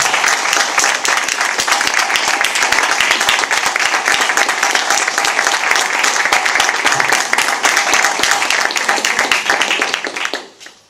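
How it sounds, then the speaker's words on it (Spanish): A conference audience at a young writers' congress gives the speakers a long, dense round of applause, loud and close, many hands clapping steadily for about ten seconds before fading out abruptly at the end. "es el momento de levantar un aplauso por todos los ponentes"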